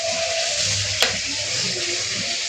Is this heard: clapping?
no